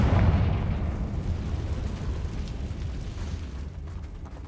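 A Confringo fire spell explosion in Hogwarts Legacy: a loud, broad rumbling blast that erupts at once and slowly decays into a long fading roar, with no voices over it.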